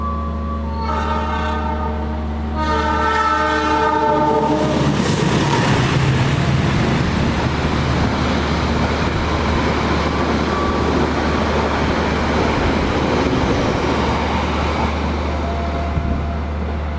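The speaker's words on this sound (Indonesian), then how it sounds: "Dan nanti kereta api Sancaka melintas di Sragen dengan kecepatan tinggi, batas kecepatan 120 km per jam." The Sancaka express train thunders past at high speed near Sragen, announced by a loud, sustained multi-tone horn, followed by a continuous close rumble and rattle of wheels on rails.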